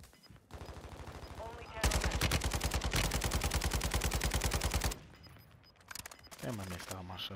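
Rapid automatic gunfire from Call of Duty: Modern Warfare II, a long burst of evenly spaced loud shots lasting about three seconds, with other shots and a speaking voice before and after.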